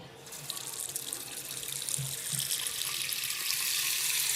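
Tap water runs steadily into a slow-draining bathroom washbasin, a continuous close hiss and splash that grows slightly louder over several seconds, with no talk.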